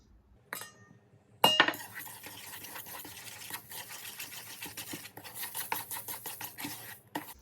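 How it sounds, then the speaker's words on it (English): Egg being beaten with a utensil in a cup for biscuit dough, a rapid run of light clinking and scraping strokes close by, starting after a couple of sharp taps and continuing steadily without talk. "Crack it into this cup and beat it together first."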